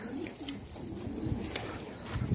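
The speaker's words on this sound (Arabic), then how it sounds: "يا الله خوف الحمام وشرد" Pigeons on a rooftop, a loft of domestic birds, coo and stir nearby in a continuous mix of soft calls and fluttering, with no talk over it.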